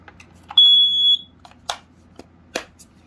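A Kidde 900-CUAR smoke and CO alarm gives a single sharp high-pitched beep, surrounded by clicks and plastic handling noises against a low hum.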